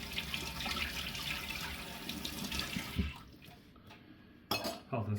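Tap water runs into a kitchen sink during washing up after making a matcha martini, a close steady splash that cuts off midway, followed by a brief clatter and a short burst of water.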